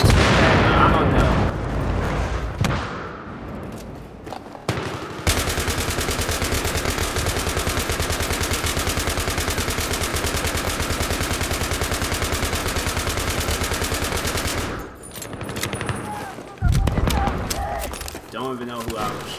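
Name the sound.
gunfire in the video game Battlefield 3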